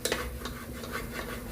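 Masala powder stirred in a pan while cooking prawn biryani, a continuous close scraping and rubbing of a spoon against the pan with light clinks, alone.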